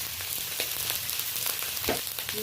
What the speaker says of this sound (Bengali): এবার আমি ডুমো ডুমো করে কেটে রাখা বেগুনগুলো তুলে দেবো